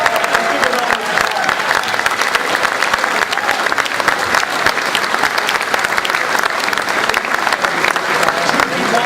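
Loud, sustained audience applause at a San Francisco civic event honoring state legislators and local officials, with dense, steady clapping from a large crowd filling the room throughout.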